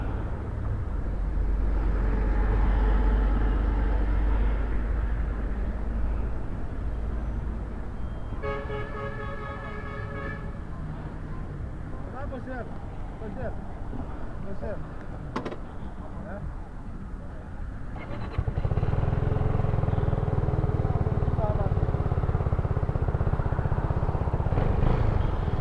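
A Zontes 310V motorcycle rides along Langata Road with a steady engine and road rumble, a horn tooting briefly midway, and the engine note swelling louder toward the end while a voice talks over it.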